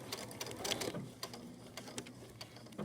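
Sewing machine stitching back over fabric-wrapped clothesline cord while making a coaster, a steady quiet mechanical rattle with small ticking stitch pulses throughout.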